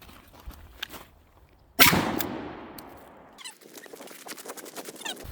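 A shotgun fires buckshot at defensive range: one sharp, loud blast with a long fading echo, set among faint handling noises and soft clicks before and after.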